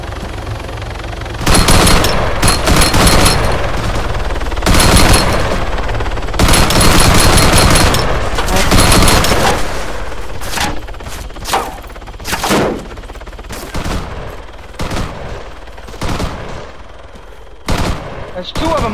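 Gunfire in the ArmA military video game, with long loud bursts of automatic fire and scattered single shots over many seconds, close and dense, thinning out toward the end.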